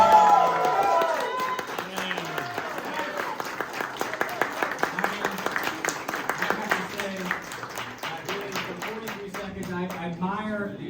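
An audience keeps up dense, steady applause with scattered cheers for shoe shine competitors in the final minute of a timed mirror-shine contest at the NYC Trunk Show, with voices talking over the clapping throughout.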